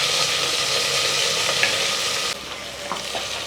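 Chopped onion and greens frying in hot oil, a steady close sizzle with a few soft stirring scrapes and a slight drop in intensity partway through, no voices.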